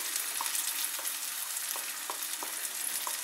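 Oat pancake batter fries in hot oil with a steady, dense sizzle, broken by a few soft clicks and taps from a scraper spreading it in the pan; no one speaks.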